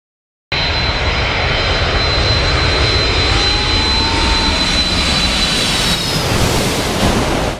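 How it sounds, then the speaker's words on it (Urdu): A jet airliner roars in low over Maho Beach on its landing approach, passing just above the crowd. The loud, steady engine rumble starts abruptly and fills the whole stretch. "جہاز عین سمندر کے اوپر سے لینڈنگ شروع کرتا ہے اور ساحل سمندر میں لوگوں کے بالکل سر سے گزرتا ہوا قریبی ایئرپورٹ پر لینڈ کرتا ہے"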